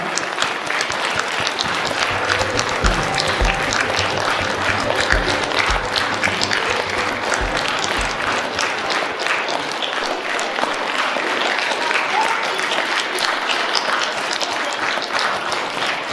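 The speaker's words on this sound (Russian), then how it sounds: "Ваши бурные аплодисменты." Sustained, vigorous applause from an audience at a theatre workshop presentation, a thick continuous roar of clapping that holds steady for the whole stretch with a few faint voices underneath.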